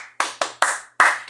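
Four sharp, close hand claps sound in quick, slightly uneven rhythm in applause for the founder of a fashion university. Each clap is crisp and separate, with brief silence between them.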